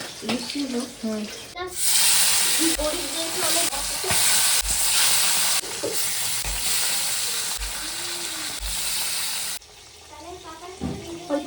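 Fish coated in turmeric and salt frying in oil in a kadai: a loud, steady hiss and crackle that starts after a short lead-in, keeps going for about eight seconds, then drops away, with some voices and clatter around it.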